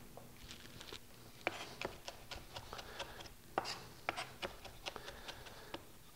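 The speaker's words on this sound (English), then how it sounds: "I'm just going to chop this fine because I want the flavor to kind of go through the whole thing" Fresh herbs chopped finely with a knife for a non-fat dressing or marinade: quick, irregular taps of the blade on the board, close and fairly quiet, in uneven bursts.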